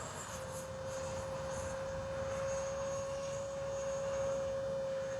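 Freewing F-16 70mm electric ducted-fan RC jet flying, a continuous airy whine with a steady high tone over broad rushing noise, staying fairly even and moderately distant throughout.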